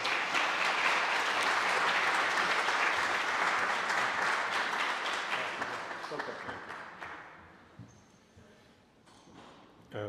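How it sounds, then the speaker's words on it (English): An audience bursts into sustained applause for professor Angelo Bolotta at an Italian-Canadian heritage celebration, loud clapping that gradually thins and fades over several seconds. "chiedo a tutti voi di applaudire"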